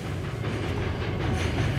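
A train rolls along a railway track in Tasmania, a dense, steady rumble with a faint hiss heard up close for a couple of seconds.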